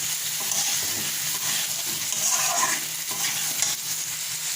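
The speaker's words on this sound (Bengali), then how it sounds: "ধনে পাতা দিয়ে আরও একটু কষাবো আলুটাকে" Steady sizzling of potatoes sautéing in a pan with coriander leaves, with repeated stirring scrapes, close and fairly loud throughout.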